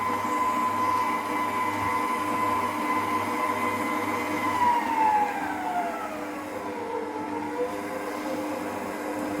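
An Anko white bench mixer running at a higher speed, giving a steady whirring motor hum with tonal whine that shifts in pitch as the speed changes, continuous and fairly loud without speech.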